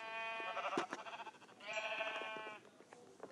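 Sheep in Minecraft Pocket Edition bleat twice in quick, nasal cries, fairly close and clear against a quiet game background with soft clicks and taps.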